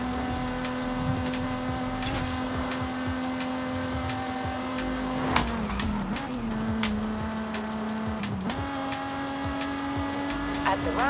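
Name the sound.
1994 Mazda MX-5 car engine driving in a video game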